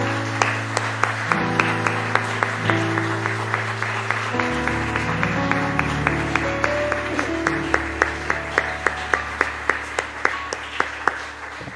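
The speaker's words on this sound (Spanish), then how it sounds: "Le damos un aplauso al Señor" Members of a church congregation clap in a steady, regular beat alongside sustained keyboard chords that shift in pitch, the crisp claps recurring evenly and close for about twelve seconds.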